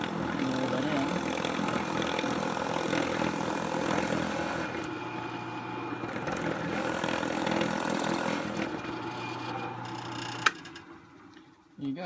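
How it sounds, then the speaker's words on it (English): A power drill with a stepped bit bores a hole through the bottom of a P90 airsoft gun, whirring loudly and continuously up close before stopping near the end. "I'm going to demonstrate drilling a hole in the bottom of the P90 using a stepper bit"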